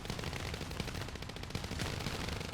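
Rear gunners in the War Thunder video game fire sustained machine gun bursts, dense rapid rattling that stays loud and unbroken for the whole stretch.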